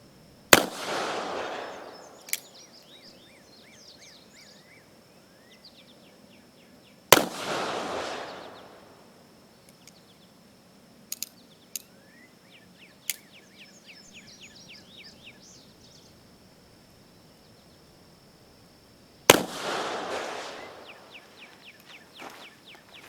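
Colt 1861 Navy black-powder revolver made by Uberti, fired outdoors in three loud, widely spaced single shots, each with a sharp crack followed by a booming, echoing tail, with faint insect and bird sounds between them.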